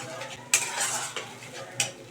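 Prawn and pointed gourd curry stirred in a pan, three distinct scraping strokes of a spoon against metal over a soft background sizzle, close and fairly loud, no talking.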